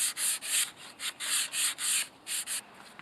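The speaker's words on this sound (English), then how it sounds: "I'm just lightly sanding it." Light hand-sanding of a kitchen cabinet door with sandpaper, about ten quick back-and-forth scratchy strokes in a steady rhythm, close and clear with no talking.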